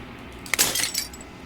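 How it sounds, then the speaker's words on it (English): Glass shattering in the video game Slay the Princess: a sharp crack followed by a brief spray of bright tinkling fragments and clinks, fairly faint and alone, fading out within about a second. "As the final fragment of glass shatters"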